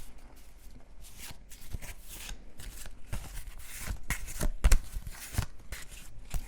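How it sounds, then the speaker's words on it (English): A deck of cards for a 7 Wonders board game is shuffled close up in a quiet ASMR setting, giving a steady run of soft riffling and papery flicks with a few sharper slaps, and no talking. "You have to shuffle every card deck."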